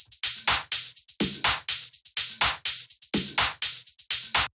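A busy, driving tech house drum loop with crisp hats, claps and punchy low hits repeating in a tight, danceable groove.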